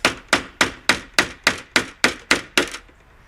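Hammer taps fine drawn-wire brad nails into oak wood, ten sharp, evenly spaced blows close by, each ringing briefly before the last fades out.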